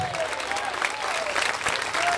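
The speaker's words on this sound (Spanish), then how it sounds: "Dele fuerte ese aplauso si es para Cristo" A church congregation applauds during a Spanish-language service, sustained crowd clapping throughout, with a voice faintly audible over it.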